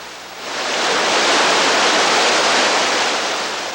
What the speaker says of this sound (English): the group approaches this Class 3 whitewater without hesitation